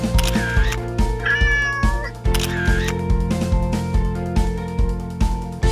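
A cat near the Hachiko statue in Shibuya, Japan, meows loudly and repeatedly in drawn-out, rising and falling calls over a steady rhythmic musical background.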